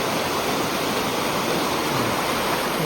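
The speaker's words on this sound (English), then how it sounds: "Water driven mill." Steady rushing water from a water-driven mill fills the clip, a constant broadband roar like a stream pouring over a weir, with no voices.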